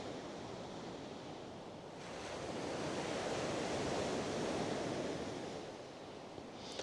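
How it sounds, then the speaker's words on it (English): Surf washing onto a sandy fishing beach at Blackpool Sands as the tide ebbs, a steady broadband roar that swells in the middle and then eases, with light wind noise on the microphone and no voices. "So it must be the waves. The tide is on its way out now."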